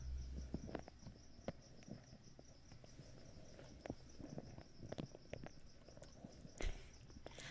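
Crickets chirp in a steady, rapid pulsing trill that runs through the whole stretch, quiet and constant beneath soft rustles and small handling noises.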